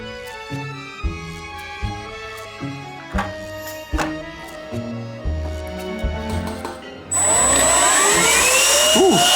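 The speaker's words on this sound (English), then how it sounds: "Our bootleg vacuum is working." A homemade M-O robot vacuum cleaner, rebuilt with a replaced belt and reassembled roller, starts with a series of knocking pulses, then kicks into a loud, steady whirring roar with a rising high whine.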